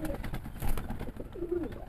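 A pigeon from a breeder pair coos close by in soft, throaty, rolling calls, with quiet background noise and no clear speech.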